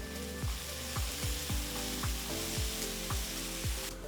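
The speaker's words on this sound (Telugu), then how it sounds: "ఒక 2-3 నిమిషాలు బాగా సాటే చేసుకోవాలి." Tomato pieces sizzle steadily in a hot pan while being sautéed for a soya chunks fry, with a spatula scraping the pan in a regular rhythm about every half second.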